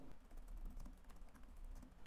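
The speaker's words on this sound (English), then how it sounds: "I'm just typing here." Fingers tap quickly and unevenly on a computer keyboard, a faint, soft patter of keystrokes under low room noise.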